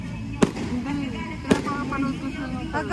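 Fireworks burst twice in an outdoor celebration, two sharp loud bangs about a second apart over a steady crowd murmur, with people talking nearby throughout.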